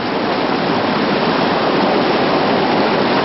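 Whitewater roars through the Big Drop rapid on the Arkansas River during a rafting run, a loud, dense, unbroken rush of churning water close by.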